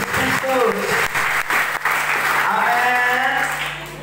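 A church congregation applauds loudly and continuously throughout, a dense wash of clapping with voices calling out over it.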